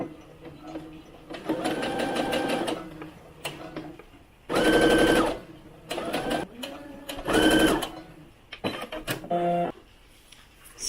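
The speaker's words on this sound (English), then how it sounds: "to finish off this rolled hem, we're just going to sew very close to this fold right here" Sewing machine stitching close to the fold of a rolled hem on small doll clothing, running in several bursts of rapid mechanical whirring and clatter with short pauses between them, close and fairly loud.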